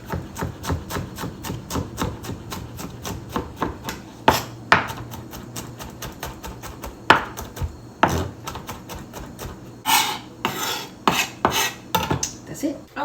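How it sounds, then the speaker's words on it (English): Garlic being smashed and chopped with a knife on a board in a home kitchen: a quick run of sharp, close knocks with several harder whacks, uneven in rhythm and mostly without speech. "Now that we have our garlic, smash it."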